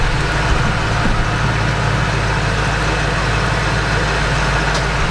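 A Ford Mustang Mach 1 fitted with an SLP Loudmouth catback exhaust runs close by, a loud, steady low engine rumble with an even idle throughout.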